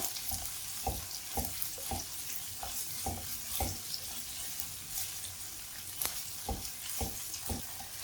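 Chillies fry in a pan for a curry with a steady close sizzle, punctuated by regular scraping stirs of a spoon.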